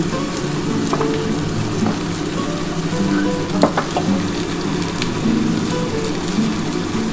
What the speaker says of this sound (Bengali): এটা ভালো করে ভাজা করে নেবো আমি